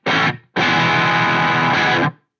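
Electric guitar run through a KMA Machines Pylon boost and noise gate: a short distorted stab, then a loud sustained overdriven chord that rings for about a second and a half before the gate cuts it cleanly to silence.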